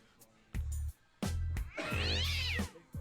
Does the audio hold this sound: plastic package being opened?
no